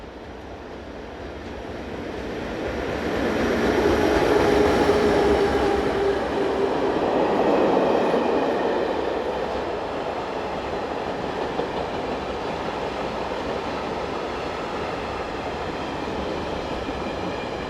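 A Swiss Re 6/6 class 620 electric locomotive hauls a quarry freight train past at Eglisau, a steady rumbling roll that swells as it nears, with faint wheel squeal and clatter of wagons continuing afterward.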